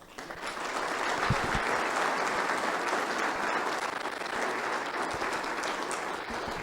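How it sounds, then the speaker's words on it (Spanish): An audience at a formal commemorative event applauds a doctor after her talk, with sustained, even clapping at moderate distance that holds steady and fades slightly at the end. "Doctora, un aplauso por sus muy valiosos conceptos."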